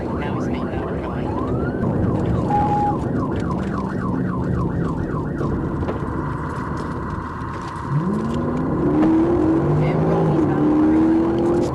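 A police car siren wails during a pursuit, cycling through rising and falling yelps and a steady tone over a loud road and engine roar, with other siren tones sweeping in near the end.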